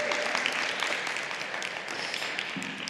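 A church congregation applauds after a song, a dense, steady wash of many hands clapping that holds at an even level for a few seconds with no voice over it.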